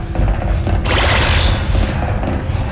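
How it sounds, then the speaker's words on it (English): A rocket launcher firing in the Slender Fortress 2 game: one loud booming blast followed by a dense burst of explosive noise that fades, with the game's ambience behind it and no talk. "Rocket launcher."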